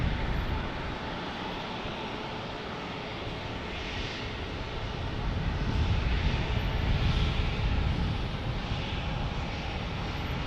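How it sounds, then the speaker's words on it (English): A Southwest Airlines plane coming in to land at San Diego, its engine rumble building steadily and peaking near the end, with faint road traffic behind it. "Here comes Southwest Airlines."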